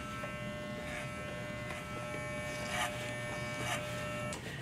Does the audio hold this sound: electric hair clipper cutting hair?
yes